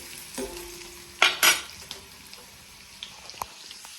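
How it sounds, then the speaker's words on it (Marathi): Onion frying in a hot pan in a home kitchen while being stirred, a constant close sizzle broken by a few louder scraping strokes of the spatula, with no one talking. "मग आता कांदा जळतोय माझा पटकन स्वयंपाक करते"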